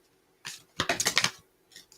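A quick riffle of cards, a short flutter followed by a louder burst of rapid snapping, then a faint final flick.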